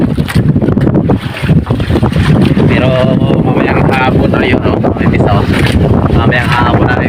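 Strong wind buffets the microphone with a roaring, gusting rush over water, while someone talks loudly through it.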